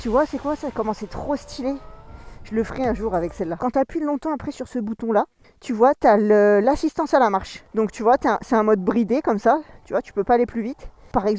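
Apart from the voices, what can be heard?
None of the usual background noises is heard.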